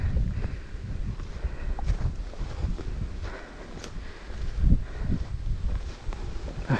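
Steady wind gusting through trees, with leaves rustling and a low rumble of wind on the microphone, rising and falling across the stretch.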